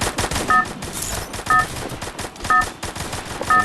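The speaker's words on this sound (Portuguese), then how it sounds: "Eu não ando acertando nenhum tiro." Video game shooter gunfire, dense rapid automatic bursts crackling continuously, loud and close, with a faint repeating electronic beep about once per second.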